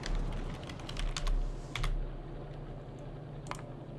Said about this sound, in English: So let's type it in.